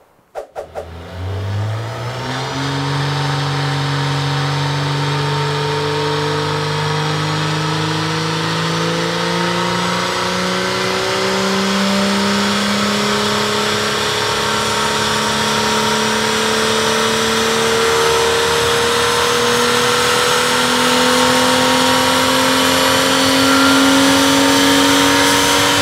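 A BMW 335i E92 with the N55 engine, Stage 2 tuned, revs up steadily on a dyno during a power run, its loud engine note climbing in pitch over about 25 seconds with no talk.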